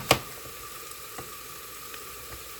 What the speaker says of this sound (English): this is now frying the onions